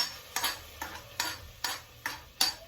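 Hot ghee tempered with asafoetida sizzles over white pongal, heard as six or seven close bursts of hissing crackle at a steady rhythm, each surging and fading, with no talking.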